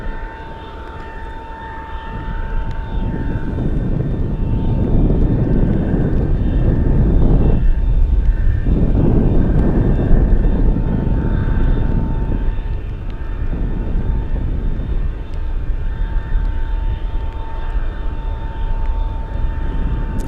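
An Atlas cargo jet taxis toward runway 25 left at Anchorage in gusty winds, its engine a loud, steady roar with a thin whine that swells and dips slightly over about twenty seconds.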